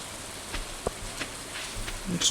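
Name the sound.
rain in Stardew Valley video game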